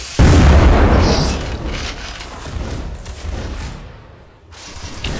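A cannon fires in an artillery video game: one loud deep boom opens, then a rumbling roll that slowly fades before a brief quiet and renewed noise, with no talking.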